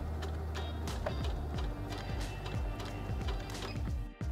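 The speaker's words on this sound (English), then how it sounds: "press the button here to start sewing" A Singer HD6805C sewing machine runs at a low, manually controlled speed, its needle mechanism tapping in a steady, close rhythm of roughly regular clicks for several seconds before stopping abruptly.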